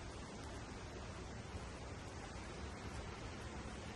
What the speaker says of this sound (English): you can also see just how powerful the flow is, as the river narrows into a gorge just below the Black Lynn waterfalls